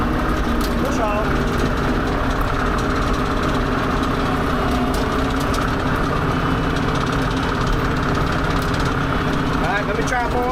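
A tractor engine labors under heavy load while mowing an overgrown wet field, shifted into four-wheel drive with the diff lock engaged. The loud, constant droning rumble runs without a break and a voice talks over it.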